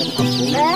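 A village rooster gives a brief, wavering cluck at close range, its sound overlapping with voices speaking nearby.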